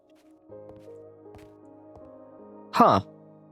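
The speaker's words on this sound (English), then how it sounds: "So now if we take this dirt, throw it into the water" In a blocky sandbox video game, dirt is tossed into water and lands with one short, wet splash near the end, over a faint background tone.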